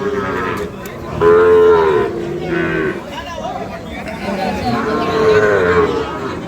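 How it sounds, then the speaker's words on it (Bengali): A Sahiwal breed calf moos in two loud, drawn-out calls close by at a rural cattle market, with faint crowd chatter and voices underneath. "আপনারা দেখছেন সাহিবাল জাতের বাছুর গরু"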